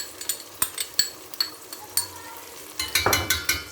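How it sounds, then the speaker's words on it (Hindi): Tomato paste goes into browned onions in a pan for a bhindi mutton curry, giving a soft sizzle under repeated scraping and clinking strokes of a utensil that come quicker toward the end. "तो पहले हम टमाटर इसमें ऐड करते हैं"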